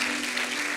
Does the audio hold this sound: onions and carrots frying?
no